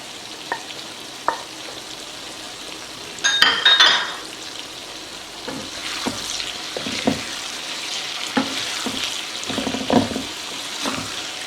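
A tomato and serrano chili sauce sizzles in a pan on medium-low heat, with steady frying crackle broken by a louder burst of stirring and occasional spoon scrapes.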